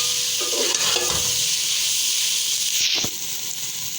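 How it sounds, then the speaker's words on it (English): Potatoes and bottle gourd sauté in a hot pan with a steady hiss and sizzle while being stirred. Scraping and clinking of the spoon come through now and then, and a louder knock sounds near the end. "now I'm gonna add the potatoes, that's fried potatoes, and mix it"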